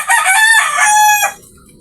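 A pet rooster crows once, loud and close, with a long, bright call that cuts off sharply, leaving a near-silent farmyard.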